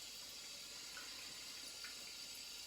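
Water running steadily from a bathroom tap during a traditional wet shave, a soft continuous hiss with no voices.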